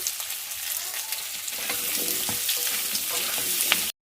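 Potatoes fry with salt in a pan, giving a continuous bright sizzle with scattered crackles and light stirring that stops abruptly into silence.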